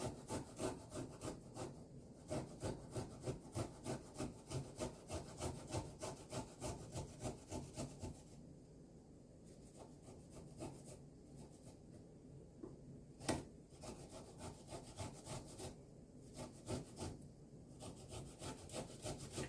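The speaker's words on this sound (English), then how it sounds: "I'm just going to grate it with skin on and everything because it's been scrubbed very well" A scrubbed vegetable, skin still on, is pushed against a grater in fast, regular rasping strokes. The close, rhythmic scraping briefly slows or pauses a few times and then picks up again.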